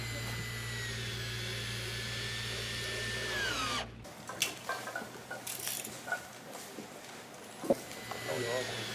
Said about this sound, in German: wenn wir da 4 Schrauben reindrehen,